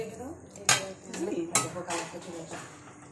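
Close metallic clanks and rattles as a lid is set onto a pan while mustard chicken cooks, a couple of sharp clatters followed by lighter knocks.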